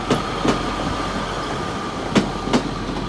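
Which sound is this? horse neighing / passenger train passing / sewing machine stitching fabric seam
passenger train passing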